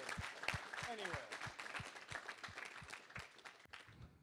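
An audience at an awards event claps in a scattered burst of applause, a spread of sharp individual claps that stays fairly faint and distant, with talking mixed in.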